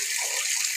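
Water runs from a tap while clothes are rinsed, a brief steady splashing hiss, close and alone.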